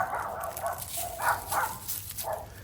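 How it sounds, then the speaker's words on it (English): Dogs bark somewhere away from the listener, several separate barks in an uneven run over a quiet outdoor background. "And we hear the dogs barking."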